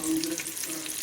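Spice tempering sizzling in a pan on the stove for a curry-leaf chutney, a brief close hiss of frying with soft crackle and a faint low hum underneath, no voices.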